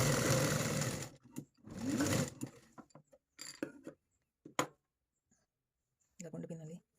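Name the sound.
sewing machine stitching fabric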